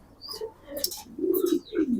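Fancy pigeons at a pigeon farm coo close by, soft throaty coos rising and falling over a couple of seconds along with a few brief chirps.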